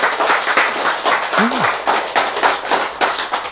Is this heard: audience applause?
yes